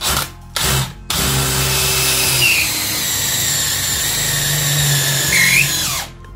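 A DeWalt cordless drill drives a screw in a steady, loud, close whine that lasts several seconds after two short starting bursts, then spins down, with no talking.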